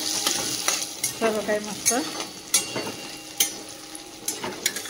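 Onions, tomatoes, potatoes, cumin and mustard seeds fry in a pan with a steady sizzle. Sharp metallic clicks and scrapes of stirring recur throughout, and someone speaks briefly.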